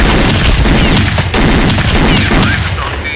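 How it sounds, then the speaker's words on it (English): Dense, loud gunfire rattles nonstop in Counter-Strike: Condition Zero during a motorcade assault near a tunnel, overlapping bursts and shots piling into a continuous fusillade. "Sir, we are taking fire from the tunnel."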